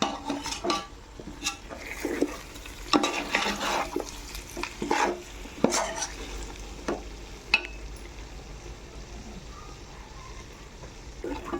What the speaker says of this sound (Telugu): ఈ మసాలా పొడులన్నీ ముక్కలకు బాగా పట్టేట్టుగా కలుపుకుంటున్నా